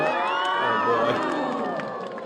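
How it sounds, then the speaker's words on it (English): A large gallery at the MBN Ladies Open 2022 golf tournament, final round, cheers and whoops loudly for a Korean women's golfer, the sustained roar filling the whole moment with excited shouts. "she will always get the biggest cheers from the crowd"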